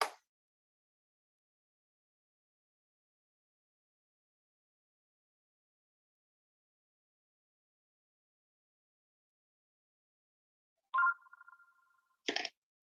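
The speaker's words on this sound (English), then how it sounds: "my answering machine starts ringing" An answering machine's ring sounds once near the end, a short electronic warble followed by a brief burst, after long near-silence; faint and alone.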